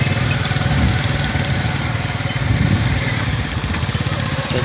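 A motorbike engine runs steadily nearby on a road where camels are being herded, a continuous rough mid-pitched drone with no clear approach or fade.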